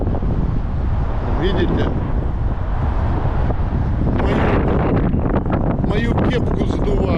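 Strong wind blows along a city street on Bazhana Avenue in Kyiv, roaring steadily into the microphone with passing traffic underneath while someone speaks briefly.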